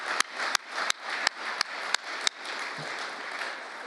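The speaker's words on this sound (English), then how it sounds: "That's worth clapping." Audience applause at a Justice Department speech by Trump on law and order, a steady wash of clapping punctuated by sharp, evenly spaced clicks, heard alone without speech.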